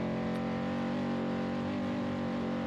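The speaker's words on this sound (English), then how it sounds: "Stock truck is humming right now." A stock Chevrolet truck's engine runs hard during the Vegas to Reno off-road desert race, giving a steady, loud, sustained roar with no pauses.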